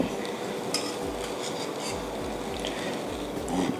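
Panang sauce made with coconut milk, stirred in a pan with steady rhythmic scraping strokes roughly twice a second, close and fairly loud over a low bubbling hiss.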